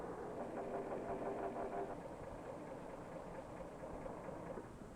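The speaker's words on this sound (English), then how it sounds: "Many of these trucks are powered by diesel engines, close cousins to the gasoline engine." A diesel truck engine runs at a steady, continuous drone with a low rumble and faint rhythmic pulsing, holding an even level throughout.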